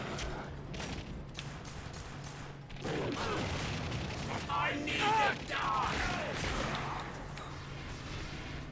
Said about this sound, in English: They're probably shooting at me with like an M16 or something like that.